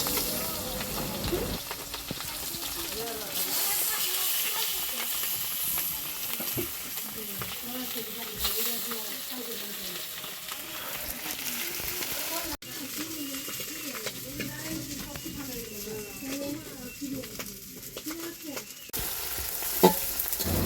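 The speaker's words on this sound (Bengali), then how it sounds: "এদিক দিয়ে পিসি মাছ ভাজা শুরু করে দিয়েছে এটা মূলত ট্যাংরা মাছ" Tangra fish fry in a pan over an outdoor fire at a village picnic, a continuous crackling sizzle with stirring scrapes, while people talk in the background.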